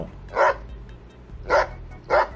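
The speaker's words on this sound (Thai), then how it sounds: "พวกมันขึ้นบ้านไม่ได้ มันก็เห่า" A dog barks outside a house, three loud, sharp barks spaced apart, each one close and clear over a low background rumble.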